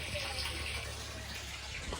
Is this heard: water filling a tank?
yes